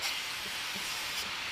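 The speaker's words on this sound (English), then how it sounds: "Spray everything down with it." Misting spray of gun cleaner applied over a CZ 75 Compact pistol, a steady broadband hiss lasting about a second and a half, close and continuous with a slight swell near the end, with no talking.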